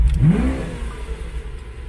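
A Lamborghini Aventador S Roadster engine fires up, with a quick rising rev right at the start that settles into a low, rumbling idle heard close by.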